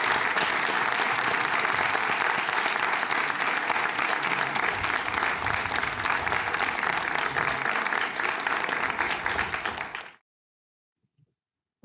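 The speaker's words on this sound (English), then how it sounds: "A big round of applause for Marina Tabassum" Sustained applause from an audience for the architect Marina Tabassum at a Serpentine event, steady and full for about ten seconds before stopping abruptly into silence.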